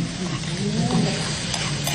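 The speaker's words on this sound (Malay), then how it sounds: "Sizzling mutton." Mutton sizzles on a hot plate in a restaurant, a dense, steady hiss and crackle that runs without a break and sits close to the listener.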